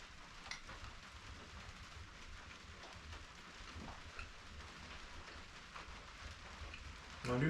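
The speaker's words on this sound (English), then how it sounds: "It just started raining." Steady rain falls outdoors as a constant broadband hiss of drops on surfaces, soft and even throughout with a brief louder burst at the very end.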